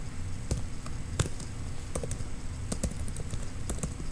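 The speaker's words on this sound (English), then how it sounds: "type in your email address" Fingers tap a computer keyboard, entering an email address in a loose run of distinct clicks over a steady room hum, close and moderately quiet, with no talking.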